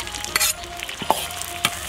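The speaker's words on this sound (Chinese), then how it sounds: "把黄豆酱的咸气炸出来" Soybean paste stirred and fried in hot oil in a wok with scallion and ginger, giving a steady sizzle broken by a few sharp spatula scrapes, close and fairly loud, with no talking.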